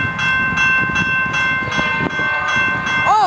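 A SOO Line freight train, locomotive 6027, heading westbound on the Sprague subdivision east of Winnipeg, sounds a loud, steady multi-chime horn that holds for several seconds over rumbling rail noise, with a brief pitch bend at the end.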